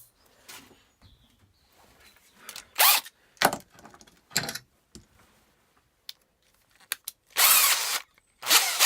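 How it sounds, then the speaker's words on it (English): A power drill bores screw holes through a zero clearance table saw insert in short separate bursts, some brief and some held for about a second, with quiet handling noises between them. "And then finally we can drill them."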